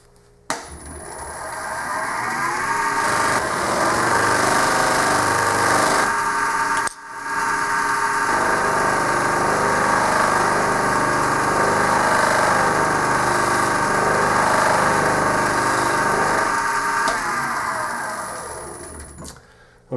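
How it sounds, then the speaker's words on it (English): A wood lathe spins a buffing wheel at about 1500 RPM, giving a steady motor hum and whine that runs continuously, briefly dips at one point, and carries faint rubbing from the buff against the wood. "I've been running the lathe at about 1500 RPM, which is the optimum speed for the buffing system"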